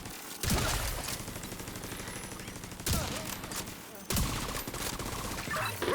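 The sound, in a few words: turret gunfire at main gate in a video game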